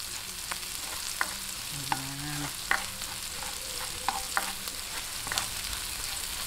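Chili and onion sauté in a pan for a spicy beef ribs caldereta, a continuous close oil sizzle punctuated by sharp spatula clicks and scrapes.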